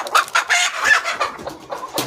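Native country hens kept as breeding stock cluck in a busy, overlapping chorus, close by and fairly loud, with short repeated calls throughout.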